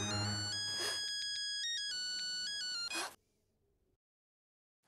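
A phone ringtone for an incoming call plays loudly in a bright, repeating electronic melody for about three seconds, then cuts off, leaving faint low room noise before near silence.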